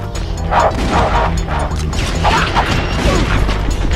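A dog barks repeatedly in a steady rhythm amid loud mechanical clanking and rumbling in Metropolis in the video game Ratchet & Clank, the barks partly buried under the noise.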